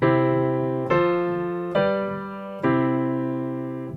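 Four sustained piano chords in root position, I-IV-V-I, played one after another, each struck cleanly and left ringing, moving up and then returning to the starting chord.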